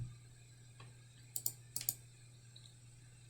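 Quick keystrokes on a computer keyboard entering a number, a few soft clicks in a brief cluster over a quiet room hum, with no talking.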